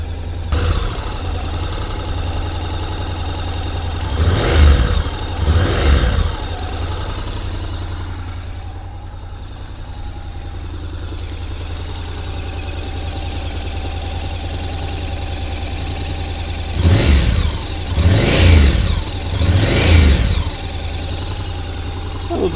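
A 2023 Honda NC750X motorcycle engine idles steadily while warming up, rising in two clusters of quick revs, with a quieter stretch of plain idling between them.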